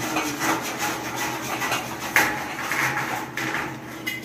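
A hand saw cutting through thick wood during electrical work in a house renovation, with repeated rasping strokes and a sharp knock partway through, close and fairly loud with no talk.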